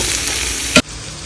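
Potatoes and spices fry in a pan with a dense, steady sizzle. One brief sharp clatter cuts in near the end, then the sizzle carries on, more quietly. Nobody speaks.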